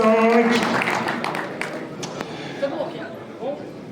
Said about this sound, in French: Et on les applaudit bien fort, les pilotes du slalom